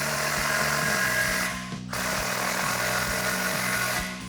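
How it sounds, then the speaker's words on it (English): Cordless impact wrench with a 16mm socket tightening the front exhaust clamp on a Chevrolet Silverado 1500 dual exhaust install, a loud continuous buzzing hammer run with one short pause midway, close up and without talk. "we're gonna grab our impact and 16mm socket and tighten our front one down first"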